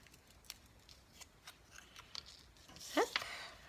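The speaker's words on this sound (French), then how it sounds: "Je vais venir découper un morceau." Scissors cutting a strip of adhesive tape give a few faint scattered snips and clicks, then a brighter, louder snip near the end, close by and without talk.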